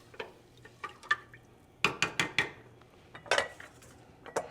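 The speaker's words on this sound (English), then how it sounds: "stir it once again" A utensil stirs chicken stroganoff in a pressure cooker pot, giving sharp metallic scrapes and clinks in uneven clusters. The sounds are close and clear against a quiet background.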